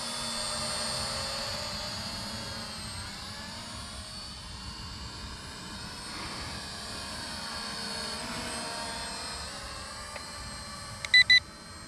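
A steady, high-pitched buzzing whine of a small Maginon QC 800 SE quadcopter drone hovering nearby outdoors, holding nearly constant for the whole stretch, ending with a few quick beeps.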